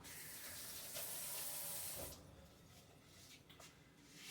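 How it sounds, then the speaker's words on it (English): Tap water runs into a kitchen sink while hands are rinsed, a steady hiss that cuts off after about two seconds, leaving faint clinks and room noise. "Take this in the sink. They've been through everything imaginable. It'll be up to me to, let me rinse my hands."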